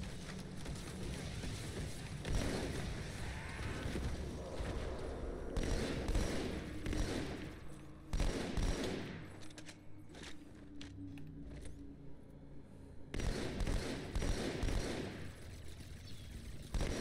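Gunfire from the Halo 2 video game: sustained, rapid bursts of automatic fire, loud and close, broken by brief lulls before resuming in heavy volleys.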